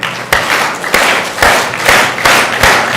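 An audience in a hall at a national science fair final claps together in a slow, steady rhythm, with loud, evenly spaced claps about half a second apart.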